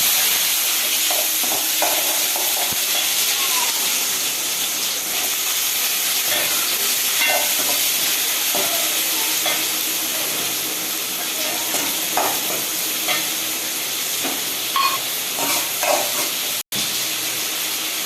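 Onions sizzle in hot oil with cinnamon and cloves in a pan for chana masala, a steady frying hiss broken by scattered crackles and occasional stirring scrapes, with a brief dropout near the end.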